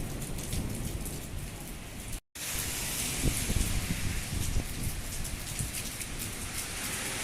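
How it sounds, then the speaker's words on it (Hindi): Heavy rain pours down in Makkah in a dense, constant hiss, with drops spattering nearby surfaces; a brief cut of silence interrupts it once. "बहुत तेज़ बारिश हो रही है।"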